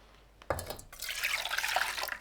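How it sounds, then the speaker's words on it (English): Dashi broth filtered while making katsudon: a short knock, then a steady splashing pour of liquid for about a second and a half, close and fairly clear. "Filter the dashi broth."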